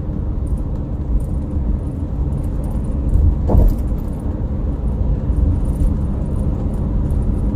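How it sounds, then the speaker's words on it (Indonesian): A car cruises at night on the elevated MBZ toll road from Jakarta toward Cikampek, its loud, steady road rumble heard from inside and swelling briefly with a thump as it crosses a bridge expansion joint. "terdengar suara gemuruh ketika melintas di sambungan jembatan ini"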